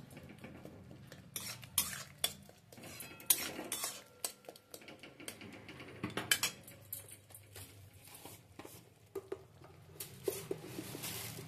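Tomato chutney stirred with a metal spatula in a pan, a run of close scraping and tapping strokes over a soft bubbling bed, uneven and busy throughout.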